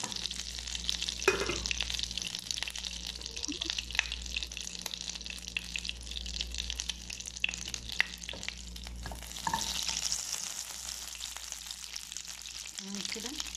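Butter heats in a pan and spices are dropped in to fry, with a continuous soft sizzle and occasional stirring clatter close up.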